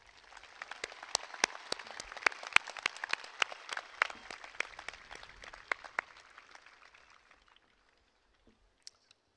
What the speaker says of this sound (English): Let's also give them a round of applause to say thank you.